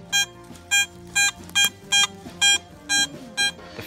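A metal detector sweeping an old barn site gives a signal tone: eight crisp, evenly spaced beeps, fairly loud and close, heard alone without speech.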